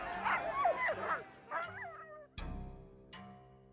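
Dogs on the Klondike Gold Rush trail bark and yip in a quick flurry, then give a few sharper barks, fairly close.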